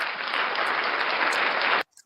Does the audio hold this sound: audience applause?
yes